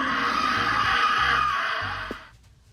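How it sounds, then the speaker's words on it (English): A sustained, piercing shriek from the 1985 film Young Sherlock Holmes, loud and continuous before fading out abruptly, with low pulsing tones underneath. "That shriek haunted my nightmares for weeks after watching that movie."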